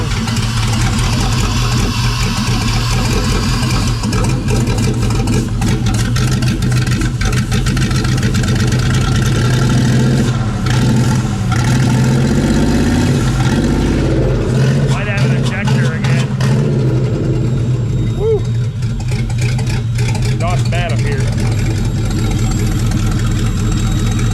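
An LS V8 engine in a boosted mega truck runs loud and close, idling roughly and loading up with uneven revs, while people talk nearby over the steady rumble.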